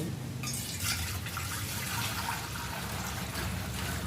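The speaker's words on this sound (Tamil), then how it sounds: "தண்ணி விடுவோம்." Steady trickle and splash of water poured onto plants in a rooftop terrace flower garden, continuous and fairly close with no talking.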